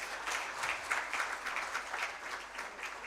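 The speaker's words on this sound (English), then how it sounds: "I want you to clap for Mussolini." Audience at an NGO HR summit applauding: a dense, steady wash of many hands clapping together for about three seconds, fairly near and without pauses.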